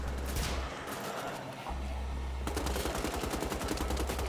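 Sustained rapid machine-gun fire in the shooter Wolfenstein: The Old Blood, dense repeated shots close and loud, with a brief lull before a faster, harder burst takes over.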